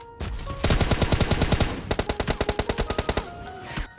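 Automatic gunfire in the mobile video game BGMI Lite, close and loud rapid bursts of evenly spaced shots in two long strings, with brief pauses between.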